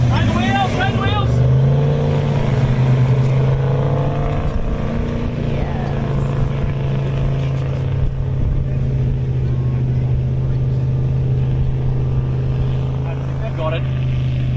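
Car engine revving hard with the wheels spinning while bogged in a sandhill, a loud sustained droning roar with a brief higher rev, as people talk over it nearby.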